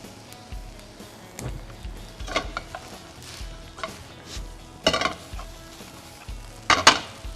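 Bean sprouts, thin rice noodles and fresh shrimp are stir-fried together. A spatula scrapes and clanks against the pan at irregular intervals over a gentle sizzle, with louder metallic hits toward the end.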